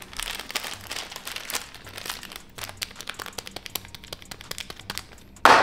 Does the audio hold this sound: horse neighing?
no